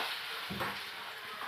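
Onions, chillies and capsicum frying in a pan for an egg and capsicum curry, a steady close sizzle with a brief stirring scrape partway through.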